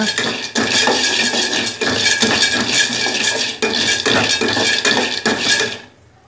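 Peanuts dry-roasting in a pan rattle and scrape loudly and continuously as a utensil stirs them, with short pauses in the churning before it stops abruptly.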